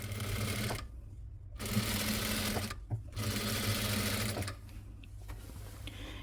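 A sewing machine stitches the neck of a nighty in several short bursts of rapid close mechanical whirring, broken by brief pauses, with no talking.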